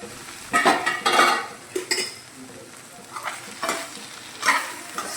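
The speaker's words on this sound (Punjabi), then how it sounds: "ਵਿੱਚ ਵਿੱਚ ਇਹਨੂੰ ਹਿਲਾਉਂਦੇ ਰਵਾਂਗੇ ਸਬਜ਼ੀ ਨੂੰ" Vegetable curry stirred in a pot over a low gas flame, with a spoon scraping and clinking against the metal in irregular strokes above a soft, continuous sizzle.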